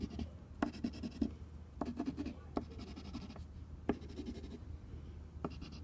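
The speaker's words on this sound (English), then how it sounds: "That's why I'm kind of doing this scratchy coloring look." Crayon scratches across paper in quick, scratchy coloring strokes, soft and close with a steady rhythm of short bursts.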